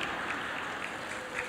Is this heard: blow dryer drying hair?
no